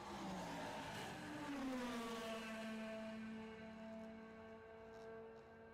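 Vintage race cars lapping a track at a vintage racing weekend, with a continuous engine drone whose pitch rises and sustains at moderate distance, steady throughout.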